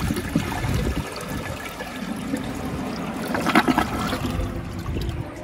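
Water siphoning and trickling out of a 2002 Vitromex Marathon toilet bowl, a steady close gurgling flow with light splashes and no speech.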